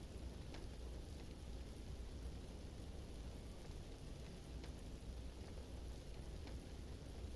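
A rainstorm with thunder in the Batman: Arkham Asylum video game: continuous rain hisses evenly throughout while a low thunder rumble rolls underneath, and no one speaks.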